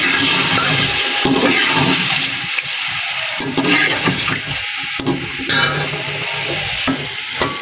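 Meat, potatoes and chopped tomatoes frying in a pot give a loud, wet, close sizzle, with stirring scrapes and splashy surges throughout; no voices.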